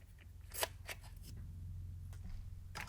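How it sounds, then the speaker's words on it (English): A Masking Master tape tool's actuator cuts masking tape with a few faint, brief snipping clicks over a low background hum. "Pull the folded point through and cut it using the actuator."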